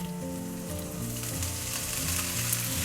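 Chopped spinach sizzling steadily in a hot pan with chilies, a dense continuous frying hiss with faint stirring, close and fairly loud throughout, no voices.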